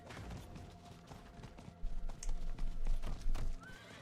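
A horse in the video game Diablo IV clip-clops along and gives a whinny, hoofbeats thudding unevenly under faint game ambience, with the louder neigh rising in the second half.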